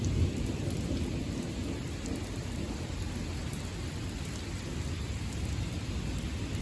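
A lightning storm brings steady, heavy rain and a low continuous rumble of thunder, dense and even throughout, with no voices.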